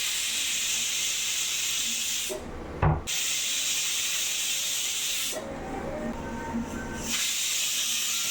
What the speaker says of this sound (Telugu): మనకి ఈ ప్రెషర్ కుక్కర్ అయితే ఒక 3 విజిల్స్ వస్తే సరిపోతుందండి